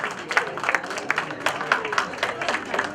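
Audience applause for a chief guest at a music event in the Arya Samaj Auditorium, steady scattered clapping from a crowd throughout, with faint voices mixed underneath.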